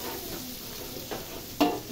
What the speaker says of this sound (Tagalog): Dito na rin tayo magluto ng ating pansit, guys. Oh, gisa-gisa muna.